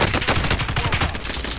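Rapid automatic gunfire in a video game, a dense close burst of repeated shots fired in quick rhythm without pause, loud and alone with no talk over it.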